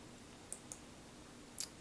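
A computer mouse clicks a few times while someone edits form protection settings, giving sharp, isolated, fairly faint clicks spread over a quiet background, with the last one a quick double.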